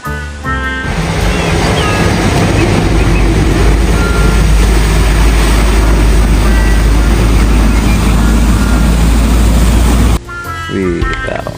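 A toy tanker truck gives out a loud, steady, rumbling engine noise that runs unbroken for about nine seconds before cutting off abruptly, with brief clatter on either side.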